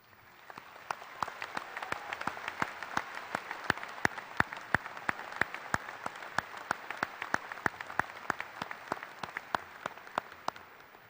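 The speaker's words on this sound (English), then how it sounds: "Please recognize these students with your applause as they stand." Sustained audience applause fills a high school graduation ceremony hall, a dense steady wash of many hands clapping with sharp individual claps standing out throughout, loud and continuous with no talk over it.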